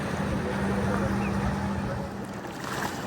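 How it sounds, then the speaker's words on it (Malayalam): A boat engine on the Chobe River in Botswana, near a national park entry point, drones steadily and evenly throughout, with a low hum and broad water and wind noise around it. "ഇവിടെ ഞങ്ങളുടെ ബോട്ട് ഒന്ന് അടുപ്പിക്കുന്നുണ്ട്"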